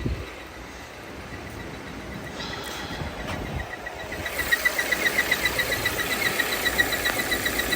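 Volvo XC60 engine idling with a suspected vacuum or PCV leak, a steady mechanical hum that turns into a louder, rhythmic pulsing hiss partway through as the RPM climbs, recorded close up with no talking.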